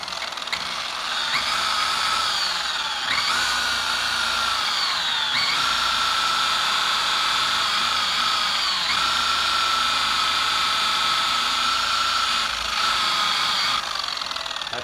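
A single action buffer spins with its pad being worked, producing a loud, continuous high whine that dips in pitch several times as the pad is hit and brushed.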